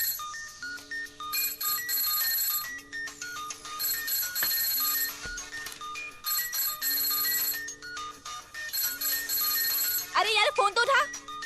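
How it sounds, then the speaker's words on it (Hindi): A telephone rings repeatedly in a Hindi film scene, its bell bursts recurring in a steady pattern with background music beneath and a raised voice near the end. "फोन तो उठा"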